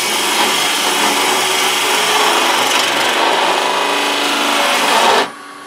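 A wood lathe turns a spindle while a tool cuts into the end, giving a loud, steady scraping hiss that continues for about five seconds before cutting off abruptly.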